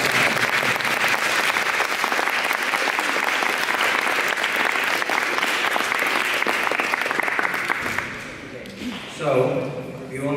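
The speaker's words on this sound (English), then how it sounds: "One more round of applause for our group." A panel audience applauds heavily, with dense, sustained clapping for about eight seconds. It fades into scattered claps and then a voice speaking.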